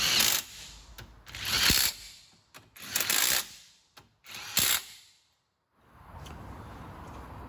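Differential bearing cap bolts on a GM 10-bolt 8.5-inch posi rear end being snugged with a ratchet: several close bursts of rapid clicking separated by short pauses, then a quieter hiss of background noise.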